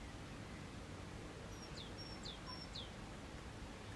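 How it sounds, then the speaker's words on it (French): Birds sing in the mountains in spring sunshine: three or four quick, faint, high chirps rise over a steady breezy hiss of open air, distant and soft, with no voices. "avec le chant des oiseaux"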